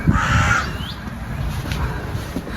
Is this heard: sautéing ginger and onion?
no